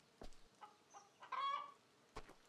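Several chickens in the video game Farmer's Life cluck in short, scattered bursts, one drawn-out squawk in the middle, fairly quiet and close with no talking.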